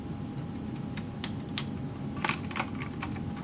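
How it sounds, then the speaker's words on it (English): Small plastic clicks and snaps come from a Lego model IMI Galil rifle as its bipod folds up and a stud locks it in place, a few quick light taps close by over a faint room hum. "Folding it up, this stud is what locks it in place."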